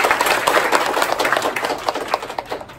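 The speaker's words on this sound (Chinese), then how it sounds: "给大家鼓掌" An audience applauds after a high school drama performance, a steady run of many quick overlapping claps that stays loud and tapers slightly toward the end.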